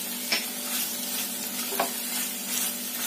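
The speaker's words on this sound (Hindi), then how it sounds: "और खूब अच्छे से इसको चलाएंगे।" Macaroni frying in a pan with Kashmiri red chili powder stirred through it, a steady close sizzle broken by a few scraping stirs of the spoon, with no voices.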